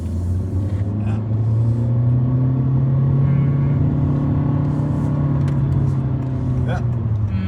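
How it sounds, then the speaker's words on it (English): A Honda Civic RS with a CVT gearbox accelerates, its engine holding a steady, droning moan with no gear changes, heard from inside the car at a constant level. "It's still there's no gears because of CVT. So it moans and groans."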